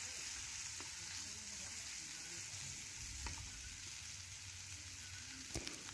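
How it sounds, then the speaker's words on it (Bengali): Chopped onion fries in hot oil with bay leaf, five-spice and whole cumin, giving a constant soft sizzle broken by occasional scraping knocks as it is stirred. "পেঁয়াজ একটু ভেজে নিচ্ছি নাড়াচাড়া করে"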